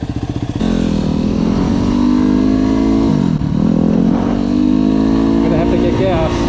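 A Yamaha WR250R dirt bike fitted with an Athena big bore kit runs close by, starting with a choppy idle that jumps into a loud, steady engine drone with slight rises and dips in pitch as it is ridden.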